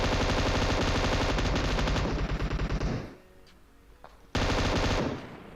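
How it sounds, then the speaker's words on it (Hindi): M249 light machine gun in PUBG Mobile firing a loud, sustained rapid burst for about three seconds, then a pause with faint background, then another sharp burst resuming near the end. "अब यहाँ पे गोली चलती है ऊपर"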